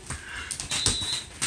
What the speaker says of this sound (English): this is my sister dog.